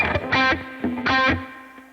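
Electric guitar through a JCM800 amp plugin with reverb, two distorted strummed chords ringing out with a sustained low note and a short reverb tail.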